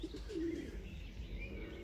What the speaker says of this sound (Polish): Tutaj pierwszy gołąb.